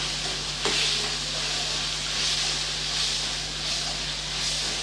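Spices for a chicken curry masala sizzle and hiss steadily in a hot pan, with occasional stirring scrapes, close and continuous.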